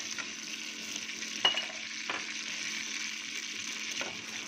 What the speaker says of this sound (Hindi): अभी इसमें हम ऑयल डालेंगे, 1 कप ऑयल डालेंगे। देखिए इसमें हमने 1 कप ऑयल डाला है। और अब ये पिसा हुआ जो प्याज है ये प्याज हम शामिल करेंगे।